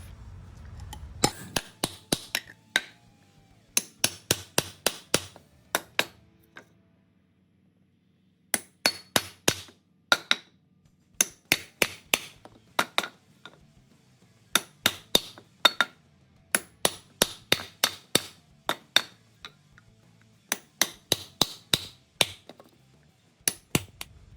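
Hammer blows strike a forged knife made from high-grade bolts in an attempt to split it: sharp, ringing metallic hits come in quick bursts of several strikes, separated by short pauses, close and loud with no talk.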